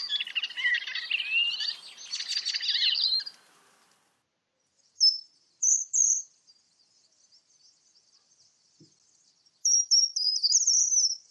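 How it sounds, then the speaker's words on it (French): Bird song in the wild identified as a short-toed treecreeper, with a busy warbling phrase at the start, then short high rising clear phrases separated by quiet gaps. "ce chant qui remonte vers du plus aigu, c'est le grimpeau des jardins"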